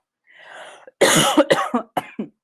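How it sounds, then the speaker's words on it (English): A man coughs several times in quick, harsh bursts close to the microphone, after a faint breathy lead-in, with no speech. "I'm coughing"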